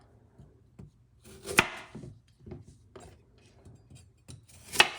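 A knife chops carrots into chunks on a cutting board for fish stock, giving a string of dull, irregular thuds close by, with two louder, sharper knocks standing out.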